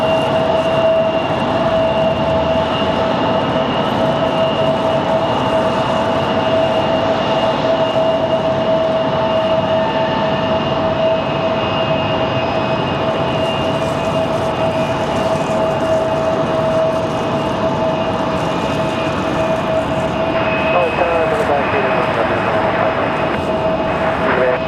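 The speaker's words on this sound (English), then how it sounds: "So the CRJ rolling out of here." A CRJ regional jet rolls out at Raleigh-Durham airport with a steady, loud engine roar and a sustained whine. The broadband rush stays constant throughout and no one speaks.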